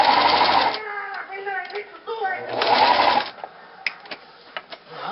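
A sewing machine stitches a plush toy in two short, close bursts of rapid whirring, with a person talking in between.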